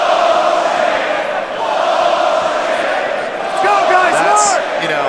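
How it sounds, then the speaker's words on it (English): Arena crowd at a mixed martial arts fight roaring and chanting in disapproval, a broad sustained wall of voices with rising surges, heard under commentators talking. "now they're cheering bullshit"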